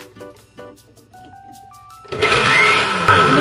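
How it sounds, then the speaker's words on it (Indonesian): A blender blends pineapple for pineapple jam without added water, starting up loudly partway through after quieter kitchen sounds and then running at a steady, strong whir. "Kita ganti pakai blender kayak gini."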